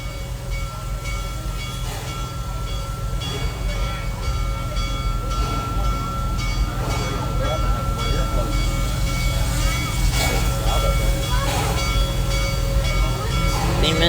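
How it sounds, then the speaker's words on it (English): A steam engine train at Busch Gardens rumbles and hisses loudly and continuously at close range, with faint bits of talk over the heavy mechanical drone. "Steam engines are very loud."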